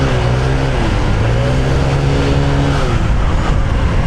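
A Honda ADV 160 scooter with an upgraded CVT setup runs steadily while riding, a loud close engine drone with a smoothly rising and falling pitch and constant road and wind noise.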